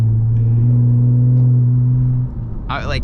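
An Infiniti Q50 in sport mode accelerating: a close, loud, steady engine drone with a firm low tone that holds for a couple of seconds, then eases off.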